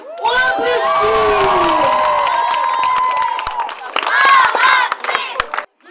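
A crowd of children cheers and shouts after a team chant at a festive game marathon, sustained loud whoops and hollers with a second burst of excited cheering near the end before cutting off.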